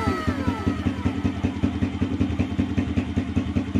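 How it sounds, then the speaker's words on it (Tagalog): A motorcycle engine runs at an even idle after starter repair and cleaning, a close, rhythmic chugging of regular pulses that holds steady for the whole stretch. "Pindutin natin yung starter button."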